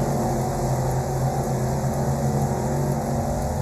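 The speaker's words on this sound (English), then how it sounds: "you hear the humming of all the engines underneath me" Many race car engines idling and humming together in the video game Wreckfest, a steady, loud, low droning blend of motors with no talk over it.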